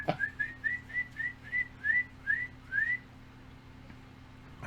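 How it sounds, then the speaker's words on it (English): A person whistles a short tune of about nine quick, rising notes, close and clear, over a faint steady hum. No one talks. "now you can whistle again."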